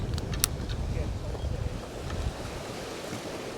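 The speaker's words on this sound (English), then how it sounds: "Wind straight in the face today, so it's a little bit tricky. Right, it's just gusting a little bit here." Gusty coastal wind while fishing for pollock buffets the microphone in a continuous low roar, stronger through the first two seconds and then easing slightly.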